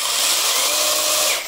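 Cordless electric chainsaw running steadily at full speed, a loud continuous high whine with a rough buzzing edge that holds for over a second before easing off at the end.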